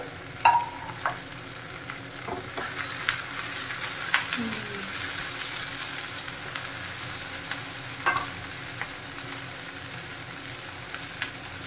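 Chopped tomatoes frying in a pan of hot oil with cashews for restaurant-style shahi paneer, a steady close sizzle broken by scraping stirs and a few louder knocks of the spoon.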